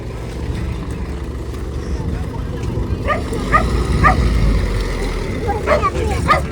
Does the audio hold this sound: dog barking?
yes